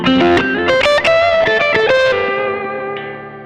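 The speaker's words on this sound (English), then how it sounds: "I like the sound of this the tube booster. It really gives some saturation and warmth to your lead sound." Electric guitar lead played through the tube booster effect of a Zoom G5 multi-effect processor, a run of quick saturated notes with bends, ending on a sustained note that fades, loud and close with no speech.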